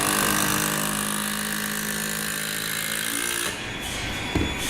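A long screw driven into a cedar 4x4 beam with a power driver, a loud, steady whirring drone that cuts off near the end, followed by a brief knock.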